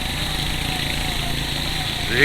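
A motorcycle rides a slippery off-road mountain road in Kohistan in winter, its engine droning steadily at close range with a slight swell near the end, and a voice talking over it.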